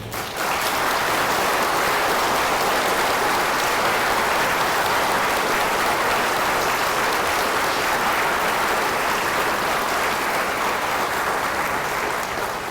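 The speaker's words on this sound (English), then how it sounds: "may I have a great hand of applause for them" A large crowd at a Memorial Day remembrance in Southampton applauds the fire chief and firemen, producing steady, loud, sustained clapping for nearly thirteen seconds without a break.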